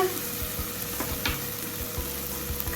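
Fish fillets with tomatoes and black pepper simmer in a pan, giving a steady low sizzle with soft intermittent bubbling pops and thumps, no voices.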